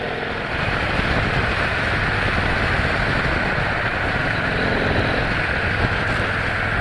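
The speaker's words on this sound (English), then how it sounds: "Oh, listen to the engine." A Victory Cross Country motorcycle's engine drones steadily while riding, a loud, continuous roar mixed with wind rush and no breaks.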